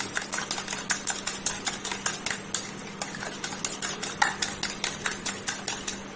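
A spoon whisks Vaseline cream mixture in a bowl to a smooth, lump-free moisturizer, making steady rapid scraping clicks in an even rhythm close by, with a low hum underneath.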